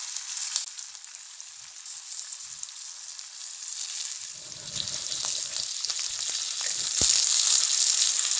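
Stuffed green chillies frying in a pan, a continuous bright sizzle that grows louder and denser partway through, with crackles and a sharp pop near the end.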